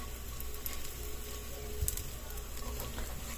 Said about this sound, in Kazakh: қуырамыз екі жағынан.